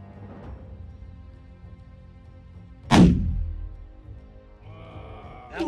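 A single sharp report from a Barrett .50 caliber Model 82A1 rifle cracks out mid-way through a quiet outdoor range, followed by a short decaying rumble and a faint trailing sound near the end.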